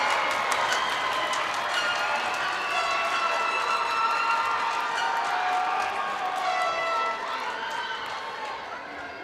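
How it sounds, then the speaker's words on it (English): Crowd applause and cheering for graduates at a high school graduation ceremony, sustained clapping with scattered whoops that slowly fades near the end. "Show your appreciation one last time to everyone who is here. Applause, graduates."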